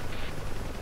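Machine gun fire from a helicopter door gunner in the DCS combat flight simulator: a dense, continuous burst of rapid shots, loud and close, over a steady rotor rumble.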